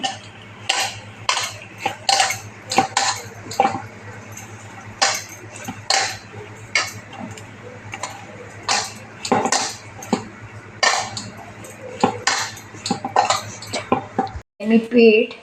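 Sabudana and potato dough for fasting chakli being mixed and kneaded in a metal bowl, with repeated clinks and scraping knocks in an uneven rhythm, close and fairly loud, a steady low hum underneath.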